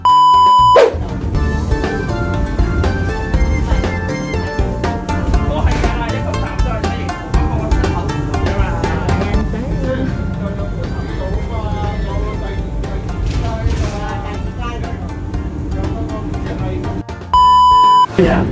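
Electronic crossing-signal beeping from a traffic light by the seaside, with steady tones at the start and near the end. In between, loud music-like sound and voices cover it.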